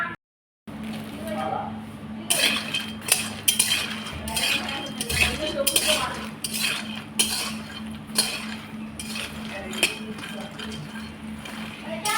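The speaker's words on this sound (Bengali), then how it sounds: "এইগুলোকে আমি কড়াই গরম করে সেই কড়াইতে হালকা আঁচে ভালো করে মুচমুচে করে ভেজে নেব।" Makhana (fox nuts) dry-roast over low heat in a hot wok, with light rattling clinks and scraping stirs at an irregular rhythm. A voice is heard at times over the stirring.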